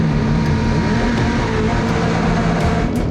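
A rally car engine idles loudly on the start line of the 2018 Olympus Rally beside four other cars, a close sustained rumbling drone that swells slightly, with sharp bursts of higher pitch near the end.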